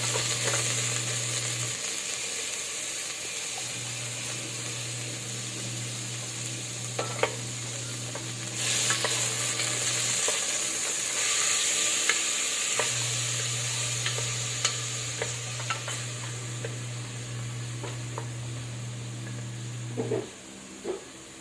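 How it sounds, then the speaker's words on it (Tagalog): A spoon scrapes and stirs chicken sotanghon soup inside a pot over steady sizzling and a low hum, with occasional clinks; no one speaks. "so halu-haluin natin ito para sa ganon hindi siya dumikit sa ating kaldero"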